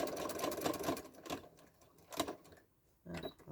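A sewing machine stitches the binding of a quilt, running in short bursts with a back stitch, its rapid mechanical whirr starting and stopping several times close by.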